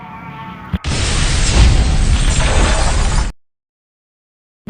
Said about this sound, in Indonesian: si Jambul memutuskan untuk meledakkan diri